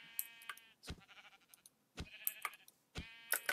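Sheep in the video game Minecraft bleat several times in quick succession, short wavering cries mixed with small clicks, fairly close and clear with no talk.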